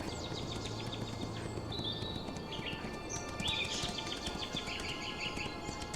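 Horse hooves clip-clop at a steady pace in a horse riding video game, moderately quiet, with chirping bird calls layered over the ambient ranch soundscape.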